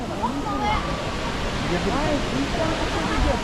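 Steady, broad rushing roar of a large waterfall in Nikko, Japan, heard from the bottom of the falls, constant and loud with someone talking over it.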